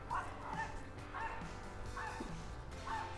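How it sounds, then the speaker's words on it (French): A small Maltese bichon yaps in a string of about five high, sharp barks at a steady pace, heard from a short distance over outdoor background noise. "On a un bon exemple de petit bichon maltais qui jappe."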